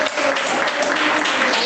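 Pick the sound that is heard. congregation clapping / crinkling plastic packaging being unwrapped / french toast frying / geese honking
congregation clapping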